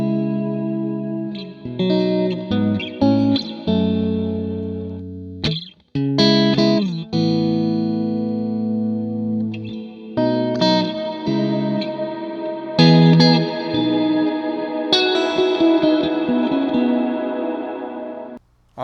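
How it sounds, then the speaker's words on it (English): An electric guitar plays chords and single notes drenched in reverb, each phrase ringing out and decaying slowly between pauses. "So here's our reverb."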